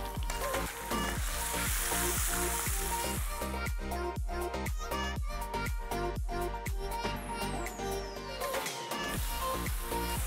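Chili spice paste sizzles and crackles in hot cooking oil, loud and close, with rapid irregular popping and occasional stirring scrapes throughout.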